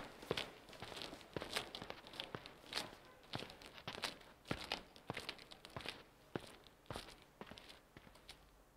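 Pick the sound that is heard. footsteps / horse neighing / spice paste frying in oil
footsteps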